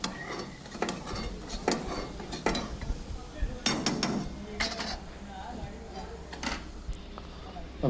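Mutton karahi with long-cut ginger stirred in a pan, with repeated metallic scrapes and clinks of a spoon against the pan at an uneven rhythm, close and moderately loud over a steady background hum.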